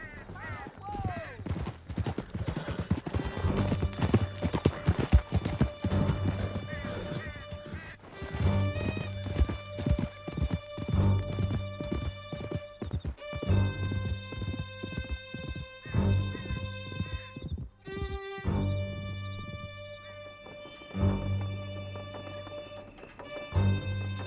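Horses gallop with hooves clattering in the Red Dead Redemption 2 video game, with occasional whinnies, a gunshot or two and shouting voices over a long, busy stretch that calms toward the end.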